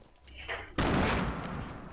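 A sudden loud burst of gunfire breaks out in a squad shooter video game, a sharp onset followed by a sustained roaring volley after a brief quieter lead-in.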